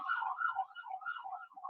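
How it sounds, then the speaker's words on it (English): Distant wailing siren, faint and rising and falling in a smooth continuous pitch sweep, heard alone without talk. "sorry for the siren"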